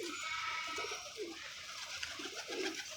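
Lakha breed pigeons cooing in a loft, several soft repeated throaty coos close by over a steady background hiss.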